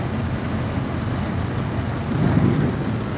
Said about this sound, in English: I don't care that it's raining